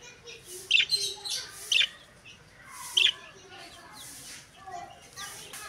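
Chicks chirp in short, high peeps scattered through the scene, several distinct calls over soft background noise, with a person talking nearby.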